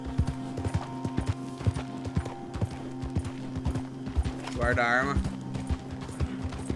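Horse hooves clip-clop in a steady rapid rhythm as a horse runs in the video game Red Dead Redemption 2 Online, with a short whinny midway and someone talking over the hoofbeats.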